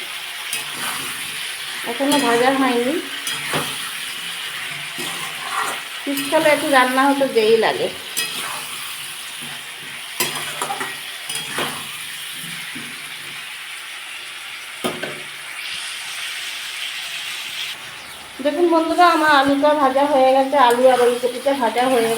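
Onions with salt fry in oil in a pan for a tilapia, kohlrabi and potato broth, a continuous close sizzle with stirring scrapes, while a voice talks over it at intervals.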